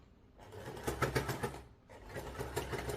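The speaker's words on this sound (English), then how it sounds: "we're just going to sew all the way around" A sewing machine stitches around the edge of a fabric storage cube bag, whirring in steady bursts with a short pause mid-run, close and fairly loud, with no talking.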